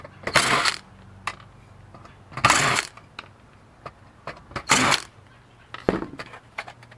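Screws being removed from the steel front plate of an HP Procurve 4108gl network switch, heard as several separate bursts of screwdriver grinding and metallic clicks and rattles, close and fairly quiet, with pauses between them.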